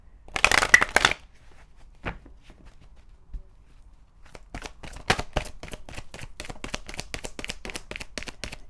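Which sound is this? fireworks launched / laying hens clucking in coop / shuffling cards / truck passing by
shuffling cards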